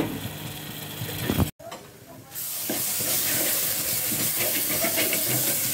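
Ground tomato paste poured into hot oil for a nethili (anchovy) kulambu, with a sharp clatter, a brief pause and then a loud, continuous hissing sizzle that carries on steadily close by.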